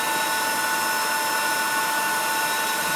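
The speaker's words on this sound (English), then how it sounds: "doing a bit of freehanding on that 4-inch wheel, gradually working into a lovely shape" A rusty old axe head is ground freehand against a 4-inch grinder wheel during restoration, giving a continuous, even, high whine with a steady hiss and no pauses.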